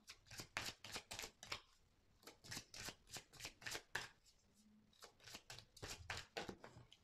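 Oracle cards being shuffled and drawn, a rapid run of crisp riffling flicks and slaps in quick bursts, close and fairly quiet, with no talking.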